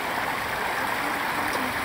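Running water from a stream beside a camp cabin rushes in a steady, close, unbroken wash with no voices.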